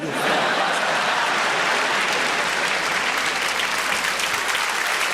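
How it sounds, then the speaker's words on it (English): A large theatre crowd at a live stand-up comedy show bursts into dense, loud applause that holds steady and unbroken throughout, with no talking over it. "Applause. That means so much to me"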